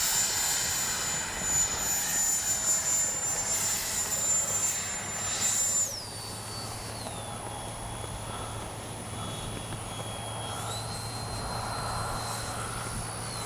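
E-flite Viper 64mm RC electric ducted-fan jet flying overhead, a steady high-pitched whine that shifts tone as the throttle changes, with airborne rushing noise heard from a distance.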